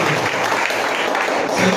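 A church congregation applauds and cheers in praise during a French-language worship teaching on a fasting program, a steady dense wash of clapping with some voices mixed in throughout.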